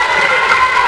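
Spectators at a basketball game for the Pirates give a loud, sustained, dense roar of cheering that fills the whole brief moment.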